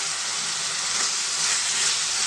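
Onions fry in a pan with a loud, continuous hissing sizzle, close and unbroken for the whole stretch, with no voices.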